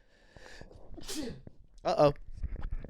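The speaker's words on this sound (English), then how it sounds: "That was just a sneeze that happened" One sharp sneeze bursts out, with a voice murmuring just before and after it.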